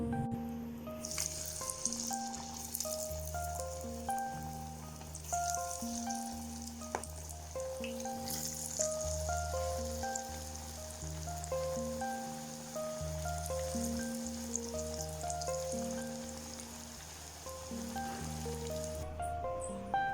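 Spinach pakora fritters frying in oil crackle and bubble continuously at a moderate level beneath a repeating melodic background tune.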